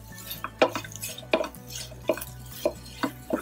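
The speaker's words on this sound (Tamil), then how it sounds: "கேரட், எல்லாத்தையும் சேர்த்து நல்லா வதக்கி விட்டுடலாம்." Carrots and mixed vegetables stirred in a pan with a spatula, giving several distinct scraping clinks at a steady rhythm over a low background hum, close and moderately loud, with no talking.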